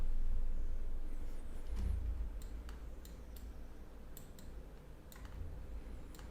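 Someone types a value on a computer keyboard while working in 3D printing slicer software, producing a handful of sharp, quiet clicks and taps. They come in short irregular bursts over a low background hum.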